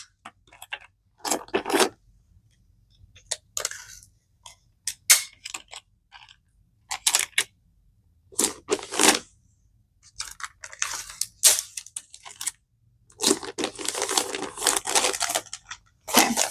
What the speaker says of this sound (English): I'm going to put her shipping label on there. And then I will tape it down as well.